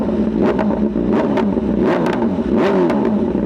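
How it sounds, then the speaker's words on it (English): A 2025 BMW S1000RR motorcycle with an Arrow titanium exhaust, blipped with several quick throttle revs that bark sharply over a loud, rough idle, close by. "Let's go ahead and give her a little blip."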